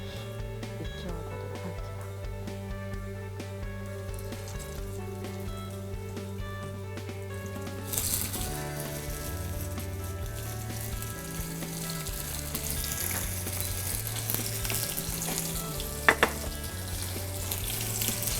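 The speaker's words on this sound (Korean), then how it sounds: "기름이 좀 달궈지면 우리는 참치를 노릇노릇하게 한 차례" Spanish mackerel (samchi) fries in hot oil in a pan during a school-lunch cooking class, giving a steady, close sizzle and crackle under soft background music, with a louder burst of spattering midway.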